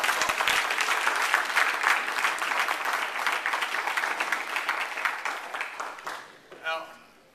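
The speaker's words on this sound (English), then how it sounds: "I think we should all give them a huge round of applause" Audience applause for the Fatherhood Support Center at a community gathering, dense clapping that tapers off, followed by a brief voice near the end.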